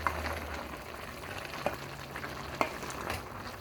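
Ginisang paku, sautéed fern, sizzles gently in a pot while being stirred, with a soft continuous frying crackle broken by three sharp utensil clinks against the pot's side.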